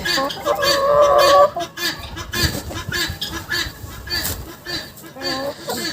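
Cochin chickens and a rooster in a poultry yard, close clucking and honking fowl calls with a drawn-out squawk early on, amid rustling and handling noises, as people talk nearby.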